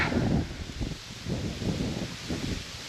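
Gusty wind blows in repeated surges, buffeting the microphone with low rumbles and some rustling, no voices present.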